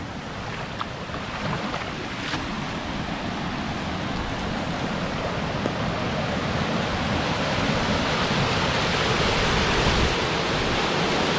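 Floodwater rushes across an RV resort after heavy rain, a steady broadband roar of running water that holds at one level the whole time, close and loud, with no voices.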